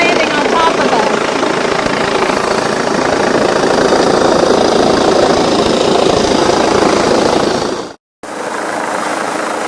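Life Force medical helicopter of Bradley County EMS coming in to land overhead, a loud, steady, close rotor and engine roar filling the whole clip, broken by a brief dropout near the end.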